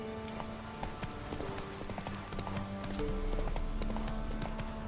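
Horse hooves clip-clop in a steady rhythmic trot in The Witcher 3, close and clear over a dense game soundscape of ambient tones.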